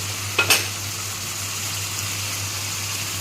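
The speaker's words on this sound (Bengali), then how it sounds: "এবার আমি সয়াবিনটা দিয়ে দেবো" Soya chunks go into hot spiced oil in a pan for a vegetarian soybean curry, with a brief clatter and splash as they drop in, followed by a steady low sizzle.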